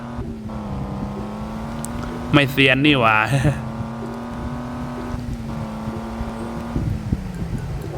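A truck driving in the Truck Simulator Ultimate video game, its steady engine drone humming underneath while someone talks briefly over it.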